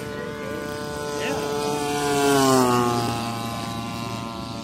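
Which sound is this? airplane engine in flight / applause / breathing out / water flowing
airplane engine in flight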